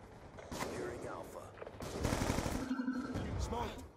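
Automatic gunfire sprays in bursts during a Call of Duty Black Ops 2 multiplayer match, loud and close, mixed with other game effects across a few seconds.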